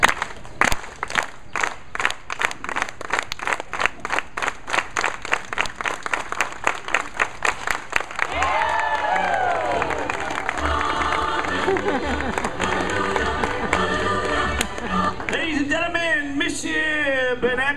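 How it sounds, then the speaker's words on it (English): A crowd claps along in a steady, brisk rhythm at a live stage show, then the beat gives way to a louder, denser wash of crowd noise with music and voices layered over it. "Everybody clap."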